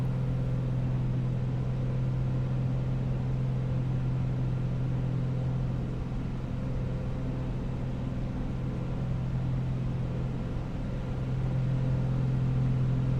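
Steady droning hum of an A2A Comanche piston aircraft engine in a Prepar3D flight simulation, a constant low tone held evenly throughout with no talking.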